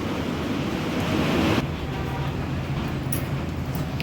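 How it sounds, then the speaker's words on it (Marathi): A mixer grinder whirs loudly and steadily as it grinds chutney with a little water for stuffed Bombay duck, then cuts off sharply after about a second and a half, leaving a quieter room hum. "हे मिक्सीच्या भांड्यात हे सर्व इन्ग्रेडियंट्स मी काढून घेते आणि अगदी थोडंसंच पाणी घालून आपण ही चटणी वाटून घेणार आहोत"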